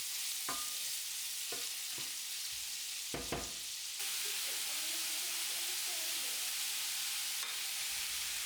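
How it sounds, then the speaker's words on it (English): Chopped root vegetables sauté gently in a pan over lowered heat, making a steady soft sizzle and hiss. A few brief stirring scrapes and knocks break through it, and a quiet voice is heard faintly in the background. "Next, add the chopped root vegetables and sauté them gently."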